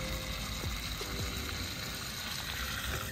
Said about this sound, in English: put this under the spigot, water this one, give the strawberries a lot of water